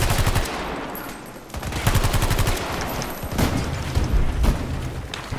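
Rapid automatic gunfire from a high fire-rate gun in a first-person shooter game, fitted with a long barrel, rattling in dense sustained bursts with short gaps between them, loud and close, with no one speaking.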